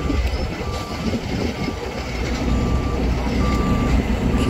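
A heavy rotator tow truck repeats evenly spaced reversing beeps while backing up, sounding over loud rumbling engine and traffic noise outdoors.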